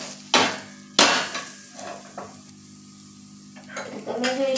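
Khichdi pudla sizzling in hot oil on a pan while being flipped, with sharp clanks of a spatula striking the pan over a steady background sizzle.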